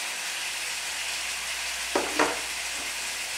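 Salt and spices being stirred into mutton frying in a kadhai, a steady broad sizzle throughout with two brief scraping stirs near the end, close and moderately loud, no voices.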